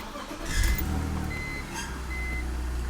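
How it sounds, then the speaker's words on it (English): A brief cranking burst followed by a BMW engine catching and settling into a low, steady idle rumble, with a faint high belt squeal over it. "we're gonna fire up the car"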